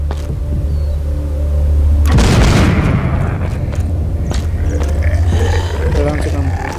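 A grenade blast in a zombie video game erupts as a loud, broad boom about two seconds in, then a sustained rumbling roar that gradually thins, over a steady game background hum.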